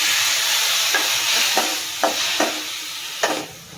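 Chopped tomatoes sauté in a hot pan with a steady, close sizzle, broken by several sharp scrapes of stirring spaced through it.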